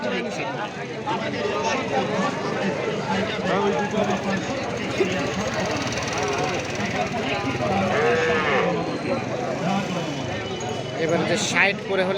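Cattle and calves low now and then amid a busy, crowded cattle market selling Sahiwal bulls and heifers, with people talking throughout over constant background noise.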